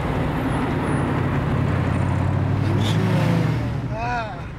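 A Saleen Mustang high-performance car runs with a deep, loud low rumble that swells and fades over a few seconds, with a brief higher whistle near the end.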